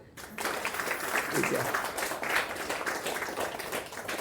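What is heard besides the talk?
audience clapping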